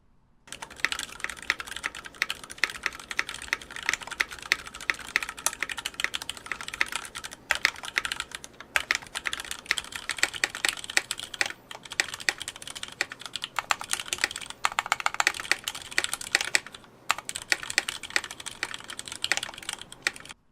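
Typing on mechanical keyboards built in 5 Degree and Tina cases gives a long, steady run of close, crisp key clacks in quick uneven bursts, with brief pauses, heard alone.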